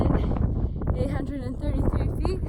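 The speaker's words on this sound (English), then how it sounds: "It's really windy up here." Strong wind at 11,833 feet on a Colorado mountain climb, gusts buffeting the microphone in a steady low roar beneath a person talking close by.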